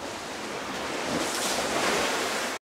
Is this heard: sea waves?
yes